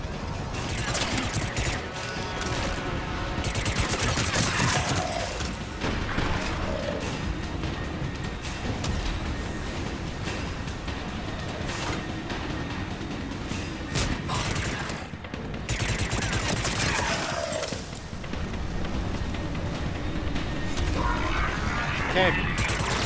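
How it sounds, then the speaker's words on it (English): Sustained cover gunfire in the Mass Effect 3 video game, bursts of weapon fire and mechanical clatter running steadily throughout, with game voices speaking over parts of it. "Give us some cover fire!"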